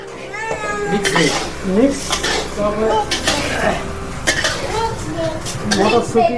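Metal pots, pans and utensils clink and clatter at a roadside cooking spot near Ajodhya Hill in Purulia, where tea with cardamom is being brewed, mixed with a meowing cat and people talking nearby.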